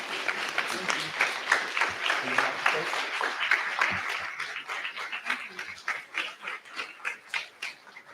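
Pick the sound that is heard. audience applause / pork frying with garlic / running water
audience applause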